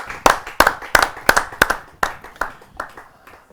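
Rhythmic clapping from an audience at a Hindi kavi sammelan poetry gathering, roughly a dozen crisp sharp claps in a steady beat, close and loud, gradually thinning out.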